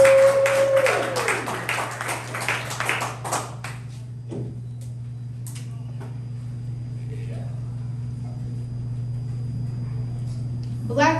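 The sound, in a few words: audience clapping for the poet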